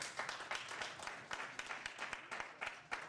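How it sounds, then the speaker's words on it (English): An audience applauds an award winner named Corporate Professional of the Year, a lively run of distinct hand claps at moderate distance, steady for a few seconds with no talking. "Let's give him a clap."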